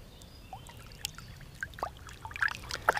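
A carp caught on a fly rod is let back into the water, giving a few soft splashes and trickles that grow a little louder toward the end, close by over low outdoor background noise.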